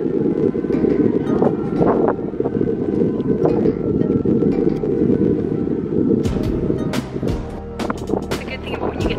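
Strong wind rushes steadily across the microphone high atop a tower in Bordeaux, France, a loud continuous roar that eases slightly near the end.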